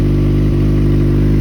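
A Kawasaki Ninja ZX6R fitted with an M4 Street Slayer slip-on exhaust runs loud and close, a dense, steady engine drone with strong low harmonics and a slight throttle blip midway.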